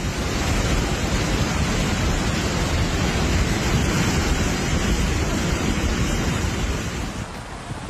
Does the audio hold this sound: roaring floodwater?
yes